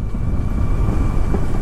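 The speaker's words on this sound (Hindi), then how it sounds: "डुकाटी गयो, डुकाटी" A Ducati motorcycle passing on a road in Sikkim gives a loud, steady low engine rumble that fills the whole moment, with no talking over it.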